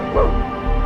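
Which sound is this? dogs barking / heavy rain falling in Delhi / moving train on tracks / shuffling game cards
dogs barking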